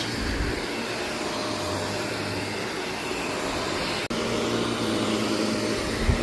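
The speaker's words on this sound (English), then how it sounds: "so I just vacuumed the back of the bigger one" A vacuum cleaner runs over the back of a soiled area rug, a loud steady whine and airy roar that cuts out briefly once and then resumes, with no talking.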